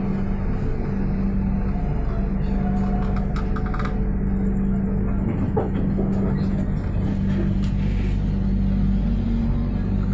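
Gitanjali Express passenger train crawling slowly near Nagpur, a steady heavy rumble of wheels and carriage noise throughout, with faint clicks and a low hum, no talking.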